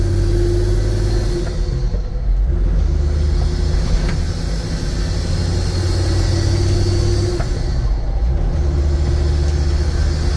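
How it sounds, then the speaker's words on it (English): A 1991 Mercedes-Benz 250GD Wolf on a test drive, heard from inside as a steady loud diesel drone and road rumble with deep low tones that shift slightly with speed, continuous throughout. "we're going on a quick test drive here."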